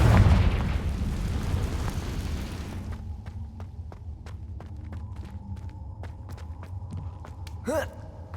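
Confringo fire spell explosion in Hogwarts Legacy, a heavy booming blast fading into a low rumbling hum, followed by faint scattered crackles and a brief voiced sound near the end.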